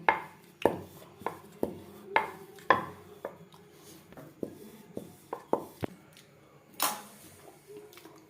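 Momo dough for homemade chicken momos being cut into small lychee-sized pieces, a series of sharp knife chops on a board, about a dozen distinct hits at an uneven rhythm, close and clear with no talk.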